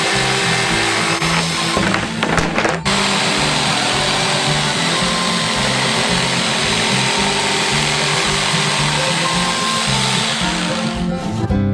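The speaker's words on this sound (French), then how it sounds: "Il reste à la découper avec une scie sauteuse électrique." An electric jigsaw cuts out a drawn candy-bar shape, a loud, close, continuous buzzing rasp that holds steady for several seconds.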